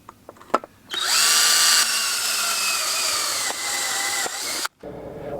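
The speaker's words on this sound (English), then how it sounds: "drill the hole in here so they're all basically the same height going across here" A power drill bores a hole through a jig for a solar panel mount on a step van: a loud, steady whine starting after a few taps, dipping slightly in pitch under load, then cutting off abruptly near the end.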